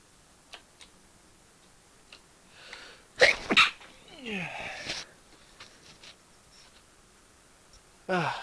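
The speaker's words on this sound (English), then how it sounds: "Sneezing." A person sneezing, two sharp bursts close together followed by a softer trailing sound, with scattered faint clicks and a short breathy noise near the end; otherwise quiet.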